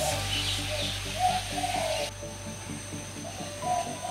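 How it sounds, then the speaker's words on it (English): A pigeon at a bird park coos softly while building a nest, low repeated coos over a steady background hum and faint hiss. "Pigeon is making a nest."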